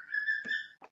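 A pet bird named Cracotte gives a short, clear, faint whistled phrase: a sustained tone followed by two brief chirps.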